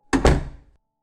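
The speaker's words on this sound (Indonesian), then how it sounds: "pintu ruangan didorong paksa dari luar, kencang sekali" A door in a room is shoved hard open from outside, giving a single loud, close thump with a quick second impact and a short boomy decay, then silence.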